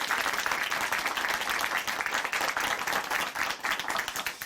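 Sustained applause from an audience at a Christian broadcast testimony program, dense and steady clapping throughout with no voices over it.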